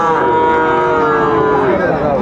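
Sahiwal cattle low in long, drawn-out moos with rising and falling harmonics at a busy Dinajpur livestock market, a continuous bellow layered over a dense crowd murmur.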